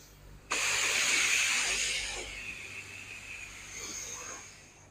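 A water sprayer rinsing soap off the windows of a vintage car starts with an abrupt, loud hiss that stays steady for a couple of seconds, then eases into a softer, fluctuating spray.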